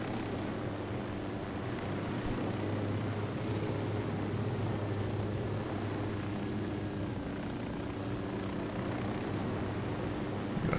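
Helicopter in the video game Ghost Recon Wildlands: a steady, continuous rotor and engine drone with a low hum that holds level for the whole stretch, with no one talking.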